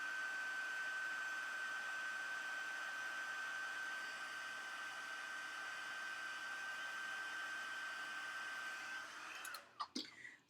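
Steady whirring blow of a heat tool with a high whine, running continuously, then switching off near the end with a few clicks.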